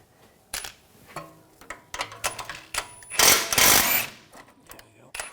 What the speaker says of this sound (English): Loosen this bolt up.